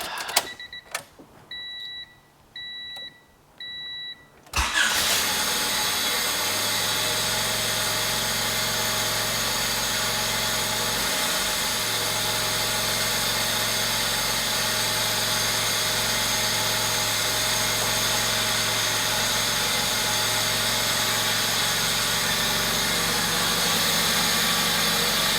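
A 1993 Honda Civic DX with a D15 engine cranks briefly with a few starter bursts, catches and fires up, then settles into a steady, loud idle with a constant hum that runs to the end.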